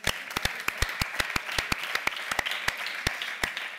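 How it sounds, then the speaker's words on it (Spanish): Steady audience applause rises in a studio comedy show, with a dense wash of many hands clapping together and sharp individual claps cutting through, continuous and fairly close throughout. "Així que un aplaudiment pel femení."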